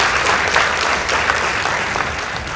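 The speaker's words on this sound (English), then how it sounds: "Please give the teams a round of applause." A studio audience at a secondary school debate competition claps steadily and loudly for the debate teams, a dense, continuous round of applause.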